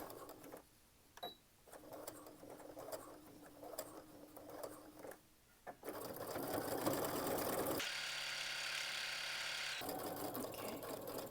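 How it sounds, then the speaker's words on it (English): A sewing machine stitches over a seam on a wine bottle gift bag, with quiet ticking and handling first, then a loud steady run of motor whirring and needle patter that shifts pitch midway as it back stitches and goes forward again. "we'll go back stitch over the seam and go forward again"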